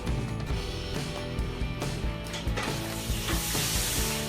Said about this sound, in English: And then we threw them in the deep fryer and got a good crisp on them